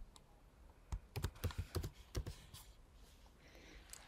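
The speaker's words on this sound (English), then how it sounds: "I just type in my text, press enter" Quick bursts of keystrokes on a computer keyboard, about eight close clicks clustered in the middle, followed by a quieter tap or two as the room hum fades.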